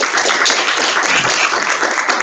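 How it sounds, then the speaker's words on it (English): An audience gives a round of applause to Texas Instruments, a loud, dense, continuous burst of clapping that fills the short moment. "a round of applause for the Texas Instruments Park"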